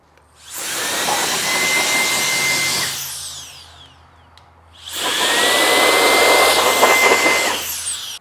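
Two long bursts of an electric air blower duster used in a garage, each a loud steady whoosh with a high whine lasting a couple of seconds, separated by a brief quiet gap.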